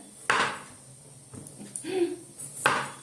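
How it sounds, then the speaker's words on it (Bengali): Onions and other vegetables being chopped on a board in a home kitchen, with a few sharp knife strikes spaced apart and a soft scrape between them, close and fairly clear. "এগুলো কাটাকাটি করে নিই পেঁয়াজ টেঁয়াজ এগুলো সমস্ত কিছু কাটাকুটি করে নিই"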